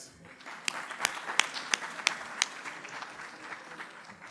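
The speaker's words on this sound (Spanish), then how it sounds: "con un fuerte aplauso" A small audience at a talk on critical minerals applauds a speaker's introduction: faint, sparse clapping with a few distinct sharp claps standing out at a steady beat, fading toward the end.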